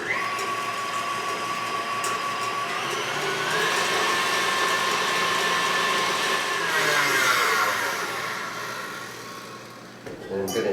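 Two eggs are beaten with an electric mixer until light and frothy, a steady motor whine that rises in pitch partway through and settles again, with faint speech in the background.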